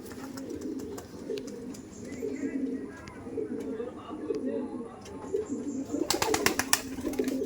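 Kaldom pigeons in a South 24 Parganas loft coo continuously, low rolling throbs repeating close by, with a voice speaking over part of it and sharper clatter toward the end.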